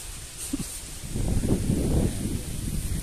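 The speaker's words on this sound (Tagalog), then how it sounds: "Tapos ang lakas ho ng hangin." Strong wind gusts over an open hillside farm lot above Laguna, a steady broadband rush that swells from about a second in and stays loud and buffeting, with no voices.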